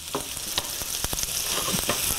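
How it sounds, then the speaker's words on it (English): Chopped onion frying in a hot pan for beef stew, a loud continuous sizzle with quick scraping stirs breaking through at irregular intervals. "we're going to go ahead and add our onion. And just move this around in the pan"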